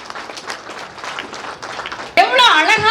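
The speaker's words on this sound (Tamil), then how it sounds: "ஒரு அரங்கம் நிறைந்த கைத்தட்டலோடு" An audience at a Tamil pattimandram debate applauds with a dense, crackling clatter for about two seconds before a louder voice cuts in over it.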